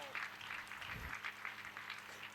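Applause from a church congregation praising the Lord, a steady mid-level wash of clapping over a low background murmur, brief and continuous throughout.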